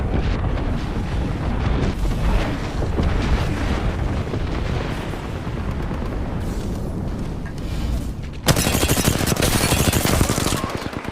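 Gibraltar's airstrike in Apex Legends, a sustained barrage of rapid detonations and gunfire rumbling loudly and close, swelling into a harsher, brighter blast wave near the end.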